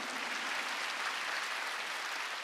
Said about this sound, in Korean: 믿으면 박수 치라야지